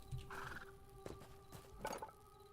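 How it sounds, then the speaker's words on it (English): A horse in the video game Hytale, a few short snorts and whinnying calls with faint hoof-like clops, quiet and close, no one speaking over it. "Hi there, horse."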